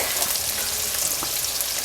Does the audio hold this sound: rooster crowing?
no